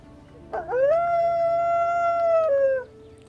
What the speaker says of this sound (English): He howls in delight at the sight of his lunch